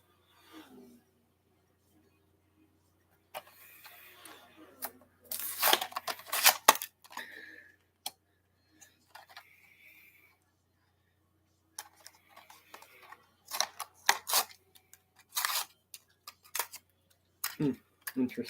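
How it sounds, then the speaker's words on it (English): Diecast toy cars are unboxed from their packaging in a quiet room, producing intermittent crinkles, rustles and sharp plastic and cardboard clicks in scattered bursts with silent gaps between. "I'm gonna actually open some cars right now"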